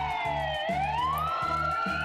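A toy police car's siren wails in a rising and falling electronic sweep, loud and close, over a rhythmic pulsing beat, with no talking.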